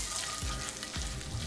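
Butter sizzles and crackles steadily in a hot frying pan, a close, continuous hiss with no voices.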